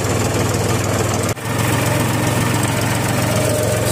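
A tractor engine chugs steadily at close range, a loud, even rumble with a brief stutter early on before it resumes running.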